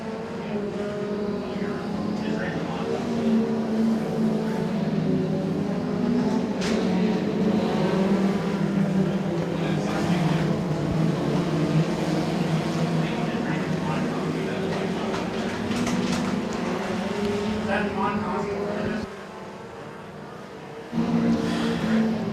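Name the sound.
compact race cars racing at Moler Raceway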